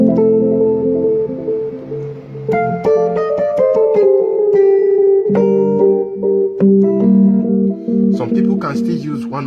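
A worship keyboard voice set with echo at 1/6 plays a melodic line of clear sustained notes, each trailing off in repeating decaying echoes, steady and fairly loud with no talking.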